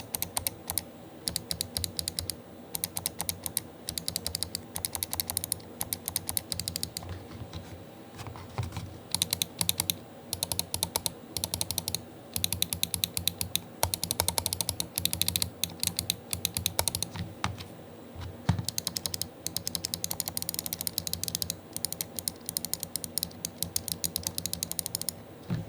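Rapid, crisp clicking from a Logitech G Pro Superlight gaming mouse, dense bursts of close, sharp clicks in quick runs with brief pauses, heard alone at close range.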